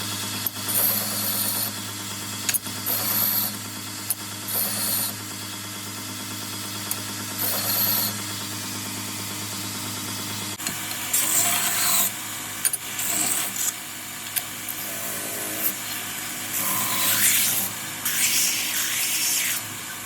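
Belt grinder fitted with a flat platen cleaning up the back spine of a Bowie rasp knife, a steady close abrasive hiss with a constant motor hum and brief pauses, growing harsher and louder in the second half.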